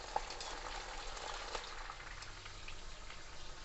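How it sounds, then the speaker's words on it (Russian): Meat frying in a pot for homemade Kyrgyz plov, a steady soft sizzle and crackle with faint popping, continuous and fairly quiet throughout. "у нас вот мясо уже пожарили"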